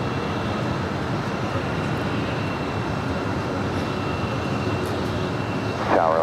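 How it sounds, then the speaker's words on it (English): Delta Airlines Airbus A321 jet airliner at LAX, a continuous loud jet engine roar with a broad rumbling wash that stays steady, then a brief higher warbling tone near the end. "That is Delta Airlines Flight 774 on our way to Minneapolis."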